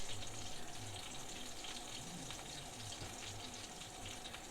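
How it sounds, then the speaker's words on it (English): A baking tray rinsed under a running kitchen tap, giving a steady close rush of water with splashing variation, and no voices. "I'm going to rinse off this tray here."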